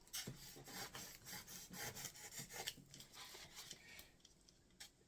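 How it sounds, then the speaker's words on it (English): A blade saws back and forth through styrofoam while a DIY peacock's neck and torso are shaped, a faint, scratchy rasping in quick repeated strokes with no voices. "if you kind of saw it like this, there's a cleaner cut to it"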